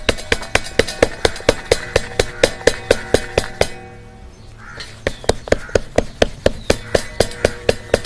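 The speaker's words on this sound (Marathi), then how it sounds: "आणि छान अशी भाकरी आपण थापून घेऊयात या पद्धतीनं। दोन्ही हाताने थापली तरी सुद्धा चालते।" Jowar flour dough patted by hand into a bhakri on a flour-dusted plate, for cooking over a wood-fired chulha, heard as loud, steady slaps about three per second, pausing briefly midway before resuming the same rhythm.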